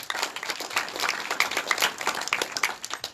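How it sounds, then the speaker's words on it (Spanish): A crowd applauds at an outdoor community works ceremony in Villa Panamericana, Chancay, honouring the president of the Chancaío town centre: dense, steady clapping from many hands, fairly close, sustained for the whole stretch. "El aplauso, por favor, fuerte las palmas."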